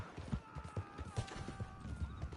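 Horse hooves clip-clop in a video game as the rider drags enemies along, a brisk, rhythmic run of dull thuds at moderate volume with faint background game noise.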